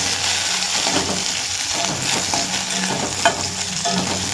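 Green chili hits hot oil in a pan with garlic, giving a loud, continuous crackling sizzle, dense and close, with faint stirring taps and no voices.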